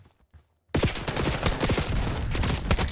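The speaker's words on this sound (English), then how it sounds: "try and shoot me as I come around the corner" Sustained automatic gunfire from the Black Ops 6 video game, a loud dense burst of rapid shots starting abruptly after a short quiet gap and continuing steadily to the end.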